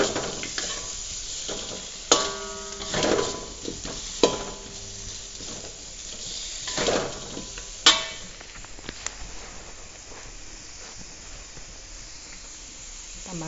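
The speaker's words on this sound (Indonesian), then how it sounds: "Kita aduk-aduk biar terbalur rata." Bay leaves and galangal stirred in a hot frying pan for nasi liwet with anchovies, with a steady sizzle broken by several sharp scrapes of the utensil across the pan, close and clear, with no talk.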